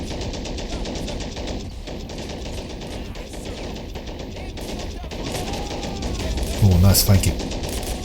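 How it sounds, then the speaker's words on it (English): Machine guns rattle in a WWII multiplayer match, a dense continuous stream of bursts under steady game noise and someone talking, with a louder burst of fire near the end. "The MGs are firing away in the center now"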